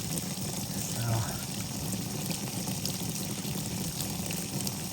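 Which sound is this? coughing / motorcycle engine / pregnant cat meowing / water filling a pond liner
water filling a pond liner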